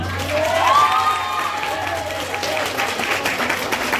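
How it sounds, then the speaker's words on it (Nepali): A church congregation claps and cheers together in a crowd of applause that rises early and then tapers, with a few voices calling out over it. "उसको लागि ताली बजाइदेऊ न"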